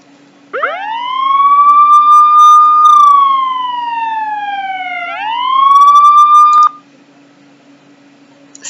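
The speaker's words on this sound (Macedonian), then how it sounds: "Сирена." An electronic siren wails loud and clear, rising, holding, sliding down, then sweeping up again before cutting off abruptly, with a faint steady hum underneath and no voices.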